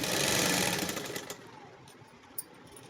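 A sewing machine stitching pant fabric, running with a fast dense mechanical whir that fades out partway through, followed by quieter handling sounds and a single brief click.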